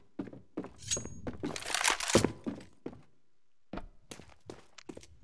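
Footsteps in CS:GO come as a run of irregular thuds and scuffs, loudest in a cluster near the middle, then a few sparser, fainter steps trail off.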